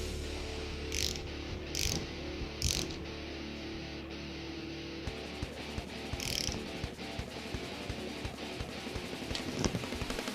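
A hand ratchet screws a Chariot cool head into place on an engine build, giving quiet, close bursts of rapid clicking with sharper single clicks between them.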